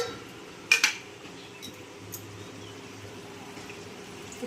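A lid goes onto a pot of cooking mutton with two quick metallic clanks close by, followed by a quiet low simmer.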